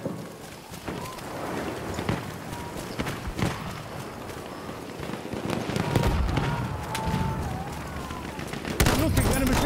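Enemy gunfire in Battlefield 1 on the Passchendaele map, sharp shots and bursts scattered through a busy, noisy battle mix, moderately loud and mid-distance, with players talking over it.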